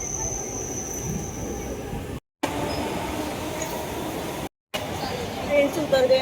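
A Mumbai local train runs steadily with a broad rumbling roar and occasional faint high squeals, cut by two short silent gaps, with people talking nearby.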